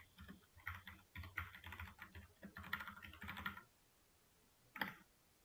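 Computer keyboard typing in bursts of quick, light key clicks with short pauses between runs, then a final brief flurry, close and fairly quiet in a still room.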